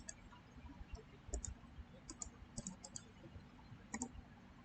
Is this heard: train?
no